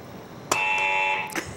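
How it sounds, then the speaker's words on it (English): A new game show buzzer in a radio studio lets out one loud, sharp electronic tone that holds for under a second and then cuts off, followed by a brief second burst. "New buzzer this morning."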